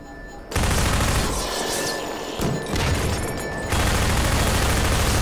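Turrets in Half-Life 2 unleash rapid, loud automatic fire in long sustained bursts, a dense mechanical rattle that pauses briefly before roaring again close by.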